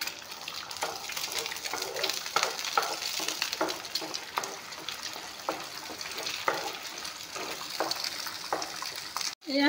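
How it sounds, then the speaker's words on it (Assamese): Eggs frying on their own in refined oil in a hot wok: a continuous bright sizzle with occasional scraping stirs, heard up close. "অকল কণীখিনি ভাজি ল'ম।"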